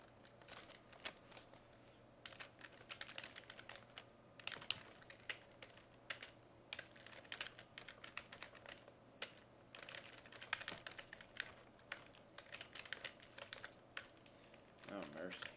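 Someone types on a computer keyboard in quick, irregular bursts of soft clicks that go on throughout, faint and close against a low steady hum.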